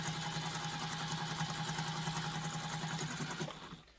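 A sewing machine runs steadily for about three and a half seconds, stitching a seam on a diaper bag fitted with a magnetic snap, then stops abruptly. The machine whirs loudly and evenly with no voices.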